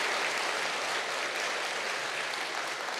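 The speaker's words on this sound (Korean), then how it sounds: "우리 목사님 박수로 환영하겠습니다." Dense, continuous applause from a church congregation welcoming a pastor, a steady wash of many hands clapping at a moderate distance without pause.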